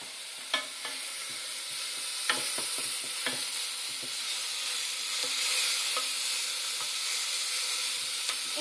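Spinach pakoras frying in hot oil, a dense steady sizzle and hiss with scattered popping spits and a few light utensil clicks, close up.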